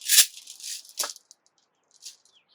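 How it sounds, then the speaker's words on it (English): A shekere, a gourd rattle with beads or nuts on it, shakes in a few quick, bright bursts of beaded rattling, the last shake softer before it falls quiet. "a shekere, which is a gourd with beads or nuts on the top"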